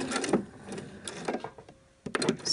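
A domestic sewing machine stitches a reflective band, its quiet mechanical whirring and clicking coming in short bursts separated by pauses as the seam runs out over the fabric edge, close and faint with no speech.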